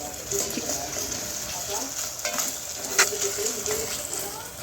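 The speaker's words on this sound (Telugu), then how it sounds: "ఒక స్పూన్ అల్లం వెల్లుల్లి పేస్ట్ వేసుకొని అది పచ్చివాసన పోయే వరకు అయితే ఫ్రై చేసుకున్నానండి" Ginger garlic paste fries in a pan with a steady low sizzle, broken by occasional stirring and a spoon clinking against the pan, close and continuous throughout.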